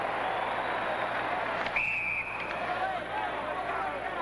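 A referee's whistle at a 1980 Olympic ice hockey game between the USA and Finland: one short, shrill blast cutting through the steady roar of the arena crowd.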